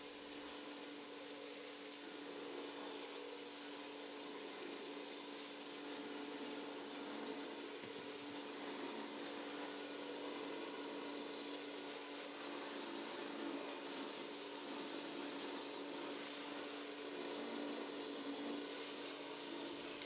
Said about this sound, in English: I've now put the patio cleaner on its most powerful setting, and I'm going to use that to clean this patio area.